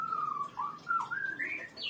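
Oriental magpie-robin (murai batu) singing close by, a clear run of sweet whistled phrases that climb in pitch over a couple of seconds against a quiet background.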